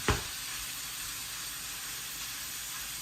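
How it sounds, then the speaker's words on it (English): Pieces of mangrove snapper fry in a pan with a steady, even sizzle that follows a brief clatter as they go in, close and continuous with no talking. "So throw them in your pan, and now you gotta make sure they're all spread out even"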